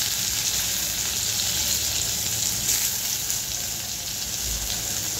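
Onion fries in hot oil with cumin for egg curry, a dense, even sizzle that holds steady and close throughout with no talking.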